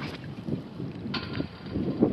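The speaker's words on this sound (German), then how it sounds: "So, hier ist es wieder ziemlich windig." Gusty wind buffets the microphone beside the Möhnesee dam, a steady low rumble with stronger surges, heard alone without talk.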